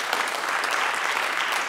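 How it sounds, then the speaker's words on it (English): Warm audience applause at an art event at the Bundeskunsthalle in Bonn, a dense, continuous wash of clapping at full, steady loudness throughout. "Let's give them a warm round of applause."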